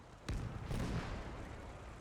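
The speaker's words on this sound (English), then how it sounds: "Big explosions." Booming explosions and artillery fire from the World War II strategy game Gates of Hell, with a sharp blast followed by a second heavy rumbling burst that lingers loudly over about two seconds.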